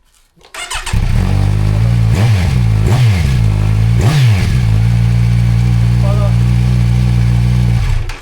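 A Kawasaki Z900 motorcycle with a faulty gear sensor cranks and fires up, blips its throttle three times in quick rising-and-falling revs, then holds a loud, steady idle up close.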